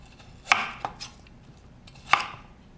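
Knife slicing vegetables on a cutting board: two crisp cuts about a second and a half apart, with a lighter tap and scrape between them, close and alone in a quiet room.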